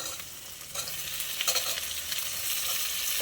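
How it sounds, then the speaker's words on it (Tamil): Onions sautéing in a pan for fenugreek rice (vendhaya sadam), a soft, even sizzle with a few quiet stirring scrapes near the middle, close up and without speech. "வெங்காயம் பாருங்கள் ஒரு இந்த அளவு வதங்கினா போதும்"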